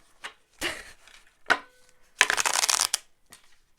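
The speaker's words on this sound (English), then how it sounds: "This is a very hard deck for me to shuffle, I will admit." A tarot card deck being shuffled overhand, giving short papery riffling bursts separated by pauses, with one longer dense flurry near the middle, close and fairly quiet with no talk.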